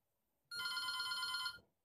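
A Micro-Tel GT1 GSM wireless terminal phone rings once with a bright, steady electronic trill lasting about a second, loud and close in an otherwise quiet room.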